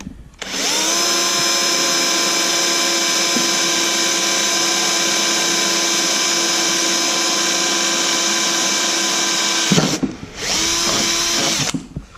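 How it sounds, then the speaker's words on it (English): A power drill bores a mounting hole for a light bar, whining steadily at high speed for about nine seconds, then stops briefly and restarts for a shorter final burst, loud and close with no talking. "Got the first hole drilled. Time for number 2."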